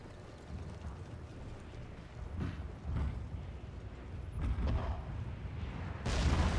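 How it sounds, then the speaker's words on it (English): Naval artillery barrage in the Fall of the Samurai strategy game, heard as a low rumbling bed with a few dull, muffled impacts building toward a louder blast at the end, no voices. "This is still regular artillery. Let's see, naval artillery."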